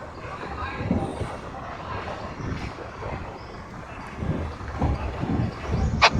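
Onboard a metre gauge train behind a YDM4 diesel locomotive leaving Visavadar Junction, a continuous low rolling rumble carries on, with heavier rhythmic thumps building toward the end and faint voices mixed in.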